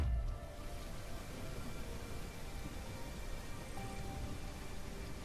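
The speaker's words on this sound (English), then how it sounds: "So we have a light rain" Light rain falling in The Isle video game, a steady, even hiss of raindrops that carries on without pause for several seconds, with a soft low thump at the very start and no speech.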